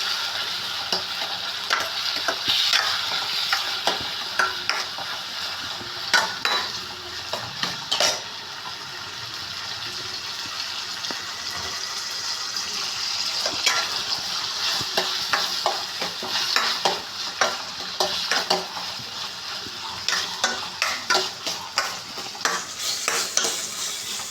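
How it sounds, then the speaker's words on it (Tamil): Tomatoes sizzle and fry in a pan for a plantain curry while a spoon stirs them. The spoon scrapes and clinks against the pan in steady, irregular strokes over a continuous close-up hiss. "தக்காளியை போட்டு நல்லா கிண்டி விட்டுருந்தோம் நண்பர்களே."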